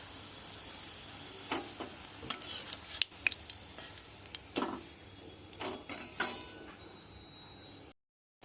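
Gram flour onion fritters cook in oil with a soft, steady sizzle. Clinks and taps from a utensil or spoon come and go over it, then the sound cuts out at the end.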